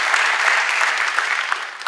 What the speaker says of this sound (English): Please, give him applause.